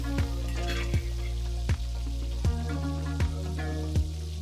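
Gentle scraping and stirring of a cream and grated cheese sauce in a frying pan over a soft sizzle, with a regular clink of a utensil roughly every three quarters of a second.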